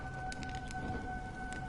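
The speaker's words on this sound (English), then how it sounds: "When will this rain ever stop?" Soft, steady rainfall in the video game Honkai: Star Rail, a faint constant patter with a few brief brighter ticks over a low ambient bed, with no voices.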